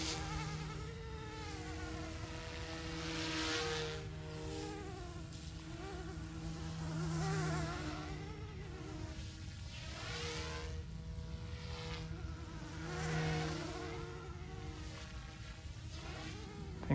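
An OMPHOBBY M2 Explore RC helicopter flying, its high buzzing whine swelling and fading as it passes nearer and farther, with no talking.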